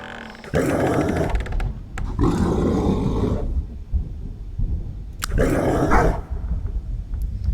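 A dog in a video game gives loud, rough barking roars in three bursts separated by short pauses, with a growling, beastly tone and no talking.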